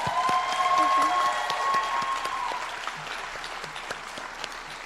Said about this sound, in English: can we get a round of applause for the class of 2022?